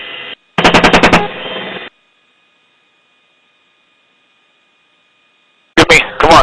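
Helicopter gunfire engaging fighters at night comes through a narrow, radio-like feed: a rapid burst of automatic fire, a long silent gap, then another short burst, with steady electronic hum between.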